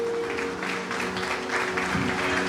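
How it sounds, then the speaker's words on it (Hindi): Applause rises in a church for a family who made a donation, a moderate, continuous clapping from the congregation with a low sustained hum underneath. "उनके लिए भी जोरदार तालियां"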